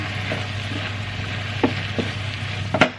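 Lamb mince sizzles and fries in a pan as it is stirred, a steady close crackle broken by a few light scrapes and knocks of the utensil, with no talking.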